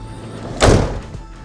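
A single solid slam of a RAM ProMaster van door, one heavy thud with a brief rattle, close by and fairly loud.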